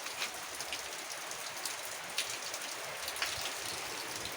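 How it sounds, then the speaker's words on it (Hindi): Heavy downpour, with water collected on a roof dripping down: a steady, dense hiss of rain and a few sharper drip impacts, fairly faint and even throughout, with no voices. "यह वही पानी है जो छत पर जम चुका है और बहुत ज़्यादा हो जाने के कारण अभी टपक रहा है, ऊपर से नीचे गिर रहा है"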